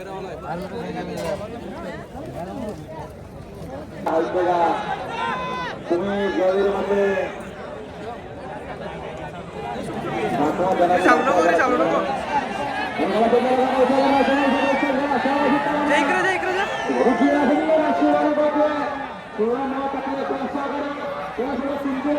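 Crowd noise at a bullock cart race at Savli ground on Republic Day, a steady mass of chatter and shouting voices rising and falling throughout, with someone talking loudly over it.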